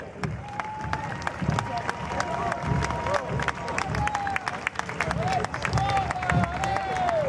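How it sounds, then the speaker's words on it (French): Outdoor crowd at the Fête des Jonquilles parade in Gérardmer applauding steadily, with scattered claps, cheers and babble throughout, along with a recurring whistle-like tone and ambient street noise. "Mesdames, messieurs, applaudissez-les."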